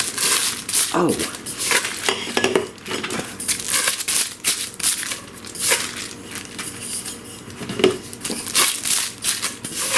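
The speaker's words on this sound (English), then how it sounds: "You're gonna take off the plastic cover." A plastic protective cover crinkles and rustles as it is peeled off Cambro utility cart parts, with a voice talking on and off over the handling noise.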